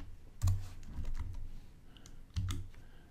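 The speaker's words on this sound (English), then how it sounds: "Now we just come in here and type M402." Short bursts of typing on a computer keyboard while entering a command into Mach3 CNC control software, a few quick clustered key clicks with a pause between, close and fairly quiet.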